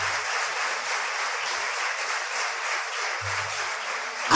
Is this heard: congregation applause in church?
yes